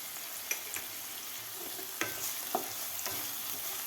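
Tomato with salt is sautéed in a pan over a faint steady sizzle, with spatula scrapes and taps coming at uneven intervals. No one speaks.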